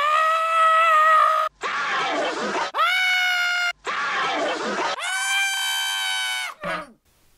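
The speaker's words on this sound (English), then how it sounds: "Please stop screaming into my ear." A hairy creature screaming in the film The Dark Crystal, several long, loud, harsh shrieks and bleating wails in quick succession, with brief breaks between them and a rising, strained final cry.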